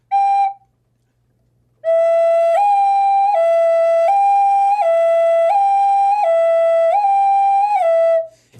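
A native flute blown with steady, constant breath pressure gives a short opening note, a pause, then one long unbroken line stepping up and down between two neighbouring pitches, clear and breathy, close and alone.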